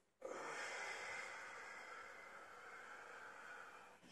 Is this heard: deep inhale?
yes